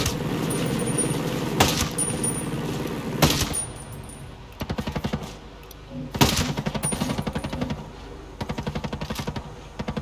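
Repeated gunfire in Ghost Recon Breakpoint, with sharp sniper rifle cracks standing out among bursts of rapid shots at moderate loudness, the firing uneven and clustered.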